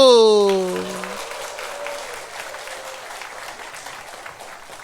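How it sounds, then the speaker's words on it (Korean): A church congregation claps again for its choir: a sustained note fades out, then steady, broad applause from a crowd in a hall continues for several seconds at an even level. "다시 한번 박수!"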